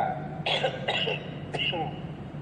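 Three quick raspy coughs from a nearby person, short harsh bursts spaced about half a second apart.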